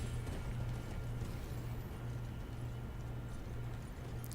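A horse galloping in a video game, heard as a steady, rapid clip-clop of hooves under a continuous low hum, close and even throughout.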